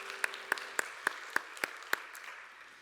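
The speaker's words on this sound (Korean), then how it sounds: "서로를 격려하면서 박수하겠습니다." A church youth congregation applauds together to encourage one another after a worship song, a fairly faint round of claps with a few sharper individual claps standing out over about three seconds.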